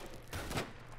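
A short burst of hip-fired gunfire in the Roblox shooter Phantom Forces, a loud, near blast of shots lasting about a quarter second over faint game background.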